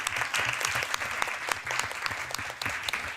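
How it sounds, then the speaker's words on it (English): An audience at a keynote on race and wealth inequality claps for an incoming speaker, a continuous, fairly distant round of applause with sharp individual claps standing out. "So please, a round of applause to Karen Finney."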